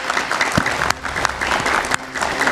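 A studio audience at an Indonesian political talk show applauds the panel guests, politicians introduced for the evening's debate, giving close, lively clapping that runs without pause across the whole moment.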